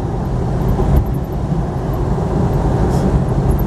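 A Scout II truck cruising at about 40 mph gives a steady, loud low rumble of engine and road noise from start to finish, with no voices.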